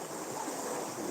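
Steady wash of sea waves with wind noise at an overcast seashore, continuous and fairly even throughout, with no voices.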